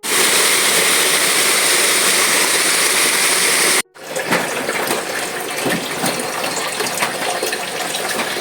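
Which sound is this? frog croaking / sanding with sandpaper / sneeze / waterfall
waterfall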